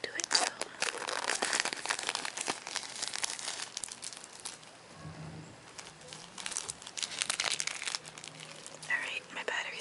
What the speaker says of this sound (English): I usually to use my scissors to cut open the clear plastic wrap